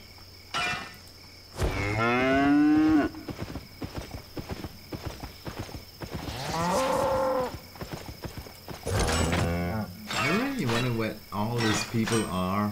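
Cows in the Albion Online video game moo several times, with long drawn-out calls among clopping hoof-like footsteps and other game sounds, fairly loud and close, and no talking.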